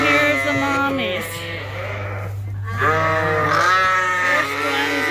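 Sheep ewes and their lambs bleat loudly and close together in a barn, several overlapping wavering calls that break briefly and then rise again.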